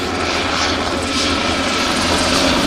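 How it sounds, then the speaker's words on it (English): Helicopter coming in to land at an Army jump school graduation at Fort Benning, Georgia, its loud continuous engine and rotor roar filling the whole stretch without letup. "This helicopter's trying to land here."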